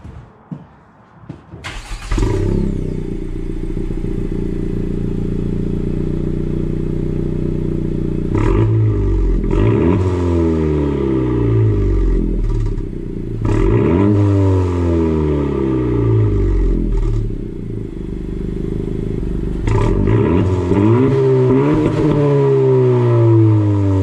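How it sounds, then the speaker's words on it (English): A 2018 Honda Civic Si (10th gen) with one muffler cut off starts up, then idles with a loud, raspy exhaust drone, punctuated by several sharp rev blips that rise and fall; no talking. "I'm just curious what it sounds like with just one muffler cut off."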